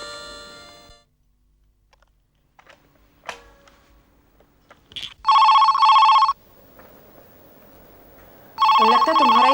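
A telephone rings in two bursts of electronic trilling, the second after a pause, set against a quiet room with a few soft clicks and brief background sounds in between.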